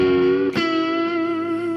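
Electric guitar played through a Positive Grid Spark MINI amp with a vibrato effect: a sustained, ringing chord that is restruck about halfway through, then rings on steadily and alone.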